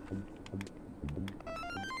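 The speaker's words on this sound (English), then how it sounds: "Oh, my phone's ringing." A phone rings in The Sims 2 for the Nintendo DS, a short repeating electronic ringtone with quick pulsing bursts, moderately quiet and with no talking over it.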